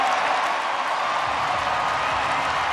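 A baseball stadium crowd roars after a leaping catch at the outfield wall, a dense, sustained wash of cheering and applause filling the whole moment without a break.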